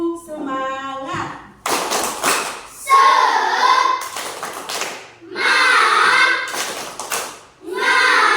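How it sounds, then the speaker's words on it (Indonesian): A group of children in a classroom perform a rhythmic spirit clap, sharp patterned hand claps in bursts, mixed with chanted voices and a teacher speaking between sections. "Ya, tepuk semangat."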